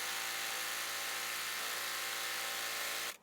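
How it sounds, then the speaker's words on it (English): Sewing machine running an overlock zigzag stitch along the edge of a flat sheet being made into a fitted sheet, a steady close mechanical whir held evenly for about three seconds before stopping abruptly. "And just overlock this with a zigzag stitch."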